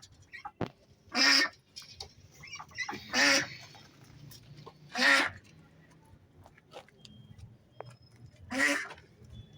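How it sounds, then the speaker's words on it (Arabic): Poultry on a farm, 42-day-old Rozzi chickens, mostly young roosters, give four loud squawking calls spaced roughly two seconds apart over a low, steady background murmur. "دي الفراخ الرزي عمر 42 يوم ما شاء الله عليها."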